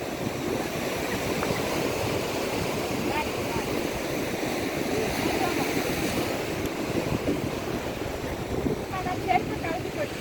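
Sea waves wash and break against rocks along a seashore, a steady broadband roar of surf mixed with wind buffeting the microphone, continuous and fairly loud throughout.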